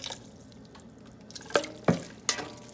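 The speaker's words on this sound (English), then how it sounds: "you can pour in your chicken broth" Chicken broth poured into a pan of frying cabbage, heard as a few separate close splashes and drips over a quiet background.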